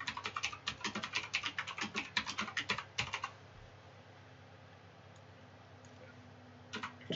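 Rapid keystrokes clatter on a computer keyboard for about three seconds, close and crisp, then stop and leave a quiet room hum with a couple of faint clicks near the end.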